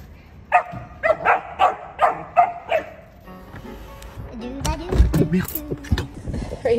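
An excited dog barks in a rapid run of about six sharp barks, then gives higher yips and whimpers mixed with brief human voices, close and fairly loud.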